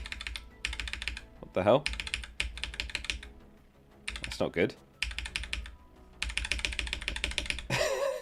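A computer keyboard is typed on rapidly in bursts of dense, frantic clacking separated by short pauses, with a nearby voice speaking briefly between the bursts.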